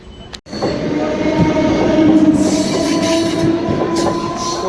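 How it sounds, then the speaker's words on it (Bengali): A passenger train pulls away from a station, its steady loud rumble carrying wheel squeal and faint rhythmic clatter, close by and continuous after a brief dip at the start. "ট্রেন ছেড়ে দিয়েছে"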